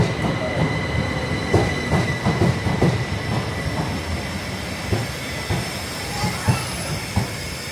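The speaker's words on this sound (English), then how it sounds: "Train's just going out there." A train pulls out of Ramsgate station, its wheels and carriages rumbling steadily with faint clicks over the rails, the sound broad and continuous rather than sharp.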